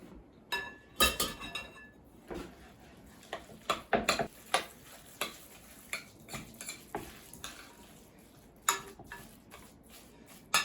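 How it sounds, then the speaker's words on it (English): A spoon stirs rice through a salmon and sumac patty mixture in a bowl, giving irregular soft scrapes and sharp clinks against the bowl, close and fairly quiet. "We'll stir it all through, and we shall see how it looks."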